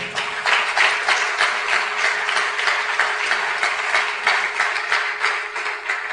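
Church congregation applauding loudly, a dense sustained roar of many hands clapping that holds steady for several seconds, rising and falling slightly, with no speech over it.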